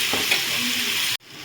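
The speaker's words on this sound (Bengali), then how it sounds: "এবার এর মধ্যে আমি আমটা দিয়ে দিচ্ছি" Raw mango pieces hit hot oil already tempered with nigella and cumin seeds, giving a loud, steady sizzle with stirring scrapes that cuts off abruptly near the end.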